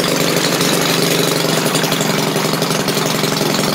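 A Maytag washing machine's small gasoline engine runs steadily at close range, its fast, even putter loud and continuous with broadband clatter and no pauses.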